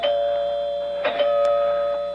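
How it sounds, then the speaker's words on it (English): A doorbell rings as a radio drama sound effect: sustained chime tones under a steady hum, with a couple of sharper ding strikes partway through. "Finally, the doorbell rang."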